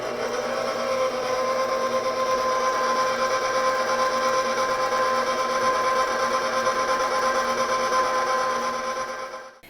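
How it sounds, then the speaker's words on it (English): An electric mixer running steadily on low as melted chocolate goes into brownie batter, a constant close motor whir that cuts off at the end. "going to turn on my mixer on low, slowly add my chocolate until it's all in"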